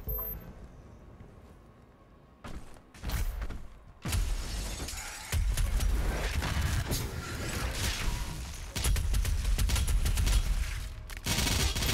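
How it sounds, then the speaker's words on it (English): A turret firing in the Doom Eternal video game: loud, rapid bursts of heavy automatic fire and shattering impacts come in waves after a quieter start, with mechanical clanks between them. "Let me fire the east turret."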